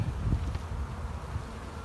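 Honey bees buzzing in a small nuc hive holding two to three frames, a steady low hum with soft rustling, close and continuous and unbroken by talk.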